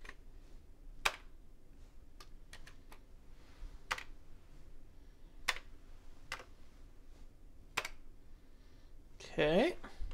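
Commodore 64 keyboard keys struck in sparse, separate clicks spread across the clip, fairly close, with a short burst of speech near the end.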